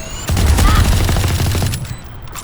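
Rapid automatic gunfire in the video game Valorant, a dense, loud burst of shots fired at a wall that lasts about two seconds before tapering off.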